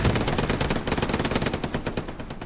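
Rapid bursts of machine gun fire in the World War II shooter Hell Let Loose, loud and close, as a dense rattling stream of shots that slows into distinct pulses toward the end, with no voices over it.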